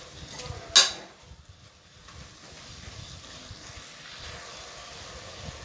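Chopped tomato is stirred into sautéed siru keerai (small-leaf spinach) in a pan. A single bright metal clink is followed by quiet, soft scraping and shuffling.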